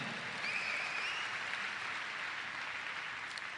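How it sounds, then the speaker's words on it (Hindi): Audience applause at a business seminar: steady, dense clapping from a crowd, sustained at an even level for several seconds without talk. "तो उनके लिए हम एक जोरदार ताली बजाएंगे दोस्तों।"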